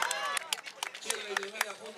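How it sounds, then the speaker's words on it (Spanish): Scattered clapping at a cevicheria competition awards, sharp irregular claps mixed with an announcer's voice and crowd chatter in a lively room. "Un aplauso para Puerto Encantado de Doral"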